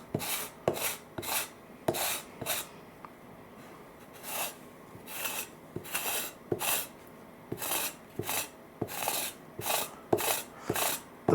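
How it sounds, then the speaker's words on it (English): Flash being scraped off freshly cast miniature model bricks in a mold: a steady series of short, close rasping strokes in an even rhythm, fairly quiet, with no voices. "I'm just going to take this and scrape a little bit of it off before I demold"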